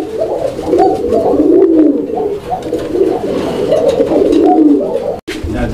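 Pigeons cooing at a Bangladeshi pigeon fair, a loud, close series of low, rolling coos that continues throughout with no talk.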